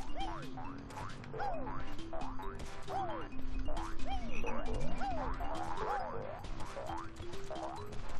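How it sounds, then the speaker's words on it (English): Frogs croak in the Banjo-Kazooie video game as cartoonish springy boing-like calls that repeat rhythmically, layered with whacks and bright game sound effects. "Oh, wait, those are frogs."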